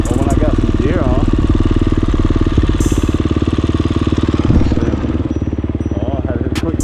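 A KTM 350 dirt bike engine while riding on a trail: a loud, close, steady buzzing drone that holds nearly constant throughout, with slight shifts in pitch.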